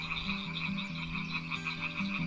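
A toad croaks steadily beside a pond, its low pulsing calls repeating in an even rhythm over a bright, constant chorus of higher frog-like trills, close and fairly loud with no voices.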